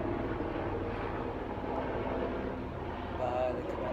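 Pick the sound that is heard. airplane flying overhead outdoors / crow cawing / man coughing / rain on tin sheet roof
airplane flying overhead outdoors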